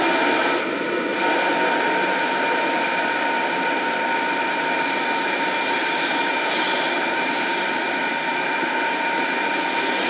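A Greater Anglia class 90 electric locomotive, number 90007, departs Stratford with a steady loud drone and whine that holds throughout, with no voices over it.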